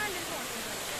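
Ayyappanovu waterfall at Tirur, Malappuram, a steady rushing wash of falling water that holds even throughout, moderately loud and constant with no distinct breaks.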